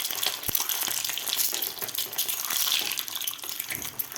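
A boiled egg frying in hot oil in a pan, a dense, loud, continuous sizzle and crackle of bubbling oil, with one sharp tap near the start.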